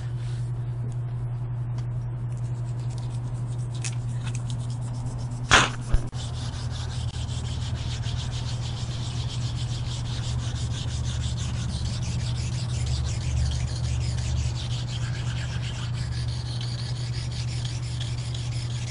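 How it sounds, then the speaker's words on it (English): Paint being rubbed off a stone headstone with Clean Stone paint remover, a continuous close scraping and rubbing sound for nearly twenty seconds over a low steady hum, with a couple of brief knocks partway through and no talking. "A clean stone will just rub that paint right off."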